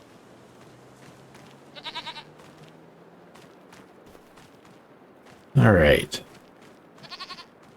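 Goat bleating in the video game Farming Simulator 25, heard as two short tonal bleats a few seconds apart, with a louder broadband burst between them, over a low hum and a brief spoken remark.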